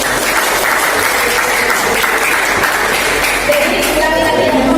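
Students in a classroom clap for group B, a steady stretch of brisk applause filling the room with mixed voices underneath.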